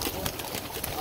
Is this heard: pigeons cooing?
yes